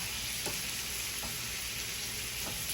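Food browning in a crowded cast iron skillet gives a steady, close, loud sizzle and frying hiss throughout, with a few faint scrapes or stirs and no talking.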